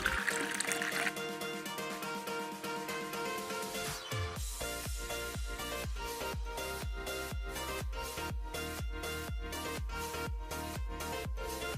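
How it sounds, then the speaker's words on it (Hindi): Plain water pours into a moringa powder drink, first a steady trickle, then a run of rapid, evenly spaced glugging splashes as the stream keeps going, close and clear with no talking. "मोरिंगा पाउडर पानी में अच्छे से घुलने के बाद मैं इसमें थोड़ा सादा पानी मिलाती हूँ"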